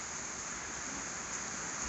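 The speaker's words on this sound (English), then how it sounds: "and yes, it's still raining" Rain falls steadily on a barn during a storm, a dense, even hiss with no clear individual drops and no voices.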